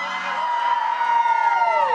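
A concert crowd at a live salsa show cheers and shouts loudly, a dense, sustained roar of whoops and yells, with one voice holding a long high cry above it.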